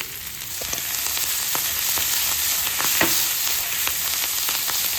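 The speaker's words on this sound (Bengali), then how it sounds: "এখন আমি এর মধ্যে প্রনগুলো দিয়ে দেবো।" Prawns hiss and crackle in a hot pan for salt and pepper prawns, a steady dense sizzle running throughout with occasional sharper pops and stirring clicks, close and fairly loud.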